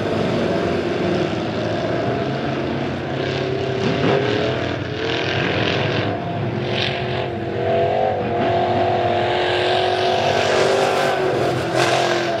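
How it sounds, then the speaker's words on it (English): Midwest modified race cars roar around Springfield Raceway during a heat race at the Turkey Bowl, loud continuous engine drone with rising and falling pitch as cars pass, no talk audible. "Trent Robinson coming out a little bit late in car number 27."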